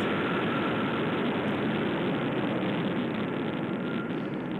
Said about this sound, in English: engine ignition and zero, and liftoff of Orbital's Minotaur IV rocket carrying SBSS for the United States Air Force